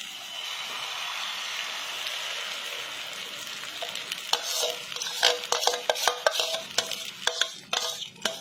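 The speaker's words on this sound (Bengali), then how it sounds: "এবার ডিমের সঙ্গে সবগুলো দিয়ে দিয়ে ফেটিয়ে রেখেছিলাম এবার দিয়ে দিচ্ছি" Beaten egg mixed with puffed rice and other ingredients goes into hot oil in a kadai over lowered gas, bringing a steady frying hiss that builds into louder crackling sizzles and stirring scrapes.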